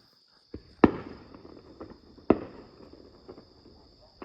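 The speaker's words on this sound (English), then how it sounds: "They might be popping some fireworks." Neighbors' fireworks pop in the distance, two sharper bangs standing out among a few fainter pops and crackles, with a steady insect chirp running underneath.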